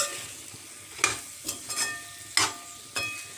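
Pointed gourd and potato pieces frying with spices in a pan, a steady low sizzle broken by several sharp stirring scrapes and clatters at irregular intervals, close and moderately loud, with no voices.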